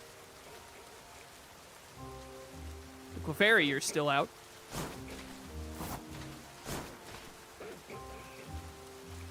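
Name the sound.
rain in the video game Pokemon Legends: Z-A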